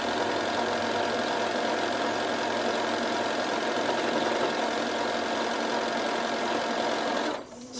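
A Bernina sewing machine stitches over a fabric edge using stitch number 3, a close, steady, fast-running whir that runs unbroken before stopping abruptly near the end.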